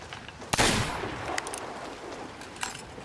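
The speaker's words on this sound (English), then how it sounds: "Follow the sound of Jeff's gunshots" Video game gunshots in Sea of Thieves: one sharp, loud blast followed by a few fainter shots spread out over a low background rumble.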